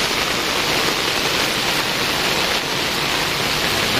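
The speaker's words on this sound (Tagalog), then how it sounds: "Mula pa tayo kanina paglabas natin sa bahay ay sobrang lakas na ng ulan." Heavy typhoon rain pours down in a flood-prone area, a loud, dense, unbroken hiss that fills the whole stretch with no talking.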